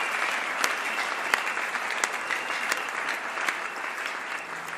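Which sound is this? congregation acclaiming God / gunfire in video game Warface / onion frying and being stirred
congregation acclaiming God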